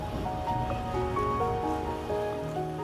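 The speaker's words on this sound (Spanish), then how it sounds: "Las olas comienzan como una leve señal en el horizonte casi imperceptible, pero en pocos segundos se convierten en enormes paredes de agua" Large Atlantic waves at Nazaré, Portugal form a continuous, dense roar of surf and wash that stays steady throughout, with some faint tonal hum layered over it and no voices.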